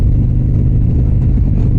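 A big motorcycle engine, a bike called the Shadow, rumbles and revs close by, a steady deep throaty roar filling the short stretch alone.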